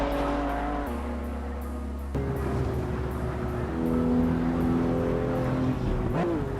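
Simulated Porsche 911 GT2 RS engine in Assetto Corsa, a loud, steady drone with distinct gear changes and rising pitch as it accelerates, swelling near the end with a brief squeal-like flourish.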